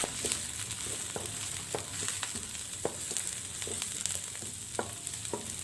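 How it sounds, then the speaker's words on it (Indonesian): A ground spice paste sautés with onion in a pan, a continuous crackling sizzle with regular spatula scrapes and taps recurring roughly every half second, close and moderately quiet. "Kemudian saya tumis bumbunya ini hingga mengeluarkan aroma yang wangi."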